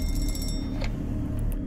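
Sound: telephone ringing in video game

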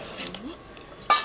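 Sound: stirring layered pineapple dish in a pot

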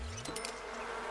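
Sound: bees buzzing in video game The Sims 4

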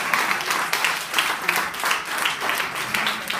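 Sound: congregation applause

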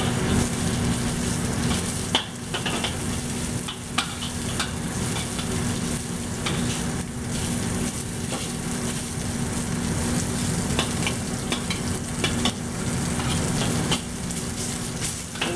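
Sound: stir-frying beef with snow peas

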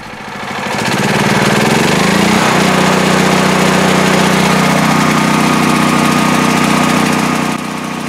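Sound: Pulsar 12kW generator running on natural gas

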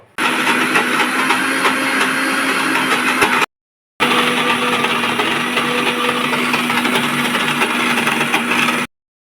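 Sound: grinding soaked biuli (urad) dal into paste

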